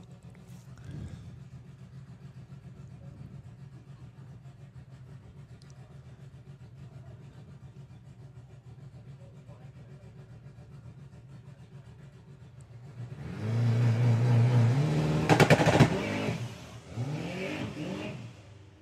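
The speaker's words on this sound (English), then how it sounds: "it really does want to launch hard, that car." An Outrage VW Beetle drag car idles with a low rumble at Santa Pod, then its engine revs hard and roars loudly into a launch, with a sharp peak before the sound tails off.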